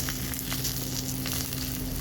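Vegetarian paneer paturi frying in a pan, giving a steady, dense sizzle close up with no gaps and no talk.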